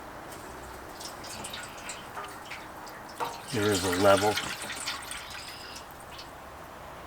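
Water poured into the water pan of a Masterbuilt digital electric smoker, a brief close splash and trickle lasting about a second midway, with someone talking briefly beforehand.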